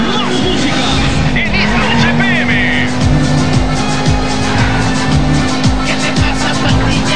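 A car driven in the video game GTA 5 hums with a loud, steady engine tone and occasional tire noise, while someone talks over it and music plays faintly in the background.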